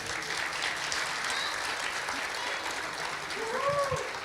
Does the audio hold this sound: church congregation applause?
yes